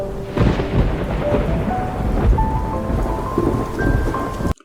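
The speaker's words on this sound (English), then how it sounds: "thunder suddenly roars" Thunder rumbles in the video game Love and Deepspace, a loud, sustained roll over steady rain, with soft musical tones drifting in before it cuts off abruptly.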